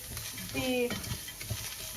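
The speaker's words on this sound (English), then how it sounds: "start stir frying" Onions sizzle in a pan while being stir-fried, with a brief tonal squeak of a utensil and soft scraping, close by.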